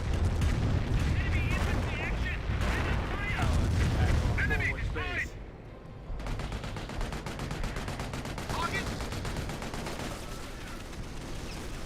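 Rocket barrage in the World War II strategy game Company of Heroes, a dense rumble of overlapping blasts and rapid crackling bursts that continues for the whole stretch, with a commentator talking over it in the first half.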